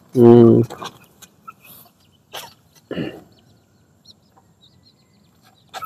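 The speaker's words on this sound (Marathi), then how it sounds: "पिल्ल्याचा कोंबडा आहे. कोंबडा आहे." A rooster lets out one loud, close cluck at the start, followed by quieter rustles, a brief cough-like sound and some scattered soft noises on a quiet farm morning.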